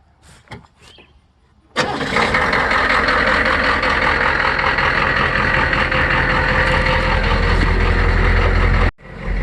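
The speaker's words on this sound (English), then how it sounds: "let's fire this truck" A military Humvee truck engine cranks and catches abruptly, then settles into a loud, steady idle for several seconds before cutting off, heard close up with no one talking over it.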